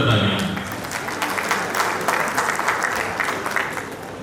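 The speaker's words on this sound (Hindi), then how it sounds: "तो उनके लिए भी जोरदार तालियां।" Applause for Kamala Bhabhi at the RID 3053 District Governor installation ceremony fills the room, a dense, steady clatter of many hands that holds at the same level throughout, with a voice faintly audible beneath it.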